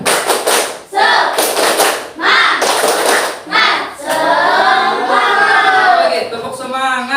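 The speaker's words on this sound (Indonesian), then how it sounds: "Ya, tepuk semangat." A school class does a rhythmic spirit clap in a classroom. Loud, close bursts of clapping come in regular groups, then the students' voices rise into a chant over the clapping near the end.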